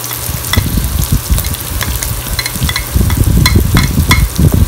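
Onions sizzle loudly in hot oil while cooking chicken curry, a steady close crackle broken by repeated scraping and stirring strokes of a utensil against the pan, with no talking.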